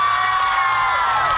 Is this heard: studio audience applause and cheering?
yes